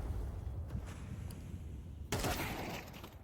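Gunfire in Counter-Strike on the Dust2 map, a faint burst of shots followed by a louder, sharper volley in the second half over a low game-ambience rumble.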